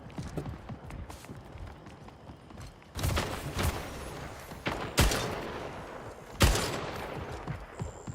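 Gunfire in the video game Splitgate: a few sharp, loud shots ring out separately over quieter scuffling game sounds, with the strongest blasts spaced a second or two apart.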